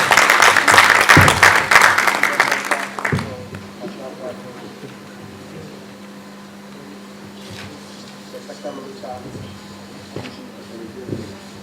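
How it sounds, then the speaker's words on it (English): A loud round of applause welcomes a minister at a college congregation and investiture ceremony, lasting about three seconds before cutting off, followed by a quieter hall with faint murmurs. "For the round of applause, shall we welcome our Honorable Minister, Professor Kwabena Frimpong-Boateng"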